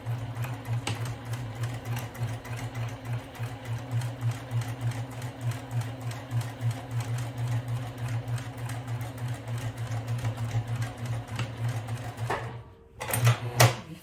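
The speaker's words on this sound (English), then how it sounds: "Now we're back at the sewing machine and we're going to top stitch." Sewing machine top stitching lunch bag fabric, a steady rapid mechanical whir with fine needle ticks running continuously, then a brief stop and a short restart near the end.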